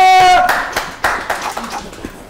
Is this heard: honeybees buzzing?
no